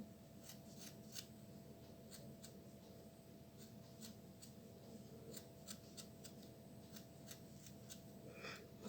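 Dull scissors trim excess yarn from a small fork-made pompom, giving a series of crisp, irregular snips, close and fairly quiet, over a low steady hum.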